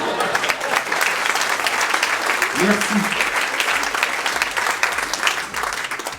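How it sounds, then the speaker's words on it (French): Steady, loud audience applause at a citizens' campaign launch in Rezé, continuous clapping filling the room while someone briefly says thanks over it. "Vous pouvez applaudir quand même, hein."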